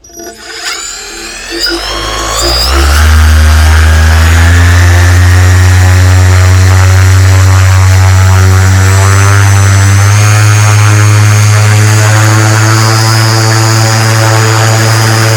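An SP140 electric paramotor propeller spins up over a few seconds into a loud, steady, high-pitched droning whine of thrust that holds close and constant with no talk.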